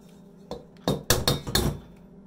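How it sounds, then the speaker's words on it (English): Brown eggs cracked against a hard kitchen surface, a handful of sharp knocks and clinks close up with a quiet pause before and after. "These are some brown eggs. Can I crack it?"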